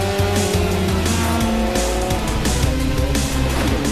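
Formula Ford race cars at Phillip Island during a round of the Australian Formula Ford Championship, engines revving loudly with rising and falling gear changes and tire squeal as the pack passes close by, with no talk.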